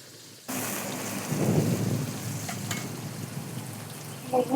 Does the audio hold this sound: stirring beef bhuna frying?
yes